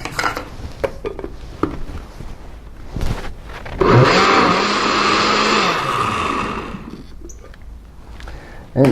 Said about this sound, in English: And now we're going to blend it all up, put it all together.